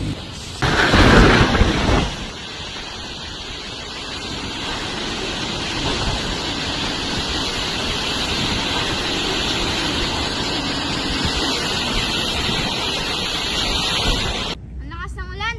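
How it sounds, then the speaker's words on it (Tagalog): Heavy rain and storm in a children's short film about a typhoon flooding a village. A loud rumbling burst like thunder opens it, then a dense, steady roar of downpour and wind continues before cutting off abruptly near the end. "Ang lakas ng ulan, anong gagawin natin?"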